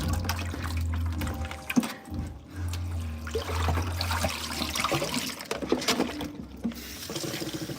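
Soaked vegetables, previously in baking soda water, rinsed under running water for spring rolls; a steady stream splashes and trickles continuously at close range, with occasional clatter as the produce is handled, and no talking.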